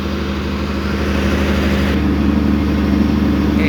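Piling machine at a construction site hoisting a concrete pile, a steady loud diesel engine drone with low rumbling tones running continuously.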